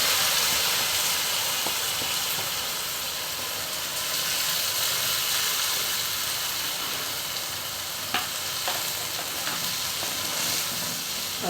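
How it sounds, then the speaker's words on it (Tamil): Tomato paste sizzling and bubbling in a pan while cooking a curry leaves tamarind kuzhambu, a steady close hiss of frying and boiling that runs without pause, with a few faint clinks partway through. "இப்போ தக்காளி எல்லாமே போட்டு பேஸ்ட்டாக கொதிக்க வச்சுருக்கோம்ப்பா"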